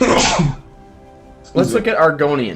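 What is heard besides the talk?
sneeze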